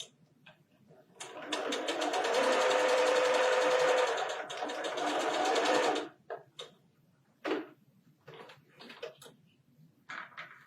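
A sewing machine runs steadily for about four seconds while stitching quilt pieces for a four-patch eight-point star block, then stops, and a few short bursts of handling noise follow close up.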